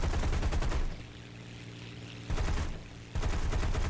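Aircraft guns fire in War Thunder in three dense, sustained bursts, loud and rattling, separated by brief lulls filled with a low engine drone.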